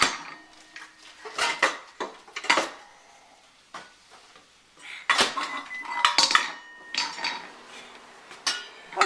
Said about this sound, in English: That is a smaller lid. It also makes noise.